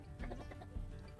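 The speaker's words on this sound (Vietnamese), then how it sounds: "Watching the chickens scramble to peck at the grains" Chickens cluck in short, soft bursts while pecking at scattered corn kernels, a few quick close calls over a low background.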